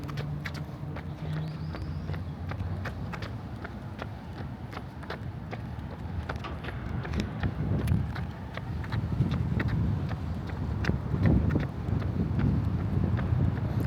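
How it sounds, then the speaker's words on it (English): Wind gusts over a roadside in a Henderson, Nevada suburb, giving a steady rumbling buffet on the microphone that grows stronger toward the end, with repeated faint ticking clicks throughout. "It's windy today."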